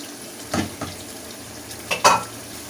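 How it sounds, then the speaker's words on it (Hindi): Ginger garlic paste sizzles gently in a karahi under a soft steady hiss, with a few sharp stirring knocks and scrapes of a utensil against the pan, close up and without talking. "ज़रा हम भूनेंगे इसे अच्छे तरीके से, ताकि इसका अदरक लहसुन का कच्चापन थोड़ा ख़त्म हो जाए"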